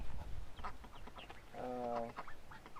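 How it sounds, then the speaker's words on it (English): Chickens cluck softly nearby in short, scattered bursts, with one longer drawn-out call in the middle. "Our little collection of chickens and ducks."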